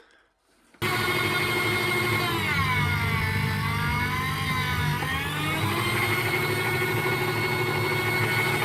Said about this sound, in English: this woman has this slicer thing, apparatus, whatever. So awesome. So I could slice nice slices from that ham